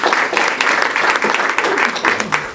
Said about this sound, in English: So you need to applaud for yourselves.